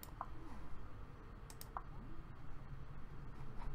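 Keyboard typing in a quiet room: a few sparse, faint clicks spread over a few seconds against a low background hum, with no talk.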